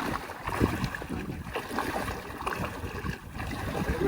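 A boat arrives on open water near Puyo Island, Siargao, heard as a steady low wash of wind and water with a faint engine rumble, no one talking.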